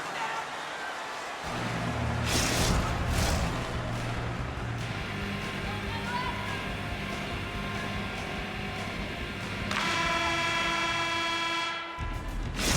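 A long, loud end-of-period horn blares in a hockey arena in the NHL 25 video game, a sustained deep tone lasting about ten seconds over crowd noise, with a commentator talking over it.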